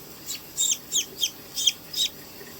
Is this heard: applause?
no